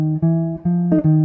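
Jazz guitar comping chords played clean and alone, three sustained chord strikes with short gaps between them, from a walking bass line lesson, each chord ringing steadily until the next attack.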